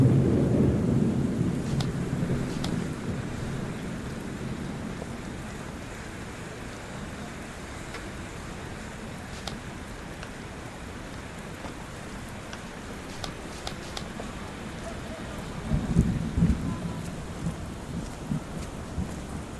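Rain falls steadily in the Sherlock Holmes: The Awakened video game, with deep rumbles of thunder rolling at the start and again near the end over the constant patter and light wind.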